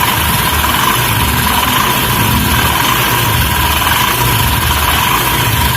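A Honda Shine BS6 motorcycle with a noisy timing chain runs loud and close under throttle. The engine drones continuously with a harsh mechanical clatter throughout, and no one speaks.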